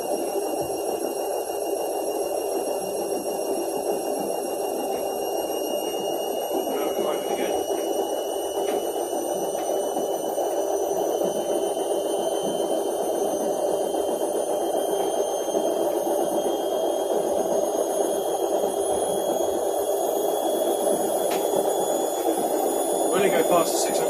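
Washing machine drum spinning at 500 RPM, a steady droning whir with a high whine held throughout, close and constant, with a faint voice in the background.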